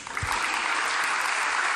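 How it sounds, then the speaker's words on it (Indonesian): A seated audience at a sermon gives a brief burst of even, dense applause that holds steady for a couple of seconds. "Tepuk tangan buat Yusuf"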